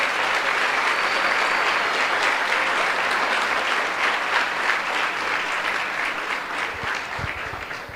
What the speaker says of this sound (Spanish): A ver, denle un fuerte aplauso a la palabra de Dios.